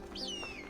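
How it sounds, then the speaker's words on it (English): A bird calls in the video game Assassin's Creed Valhalla. One short, thin whistle slides downward, fairly faint over a low background hum. "it's a bird."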